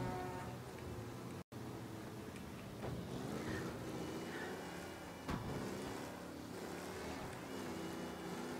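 A car engine in the Mafia video game drones steadily as it overheats, a continuous mid-loud motor hum with wavering pitch and a brief dropout near the start.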